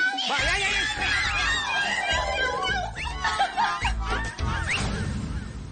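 Voices imitate a cat, making wavering meows and yowls that blend with giggling and snickering, close and fairly loud.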